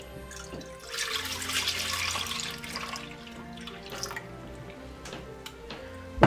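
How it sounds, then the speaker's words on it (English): Milk and half cream pour into a saucepan, a soft liquid splash and trickle swelling for a couple of seconds, then settling into faint drips and light clinks from a kitchen setting. "into our saucepan here, we are going to add in our milk and half cream"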